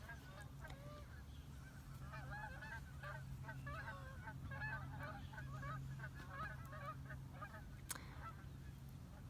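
Waterfowl honk and quack in a repeated chatter, moderately close but faint, over a low steady hum with no talk.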